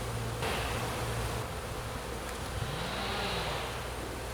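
Italian honeybees buzz around an open hive during a spring inspection, a dense continuous hum of many wings with occasional individual bees passing near the microphone, steady and moderately loud with no talking.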